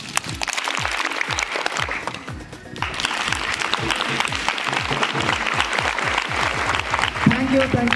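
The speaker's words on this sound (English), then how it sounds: "So can we give a clap with your one finger?" Quick, scattered taps from an outdoor Pongal celebration audience clapping with a single finger, a soft irregular patter over chatter and a brief lull near the middle, with voices heard toward the end.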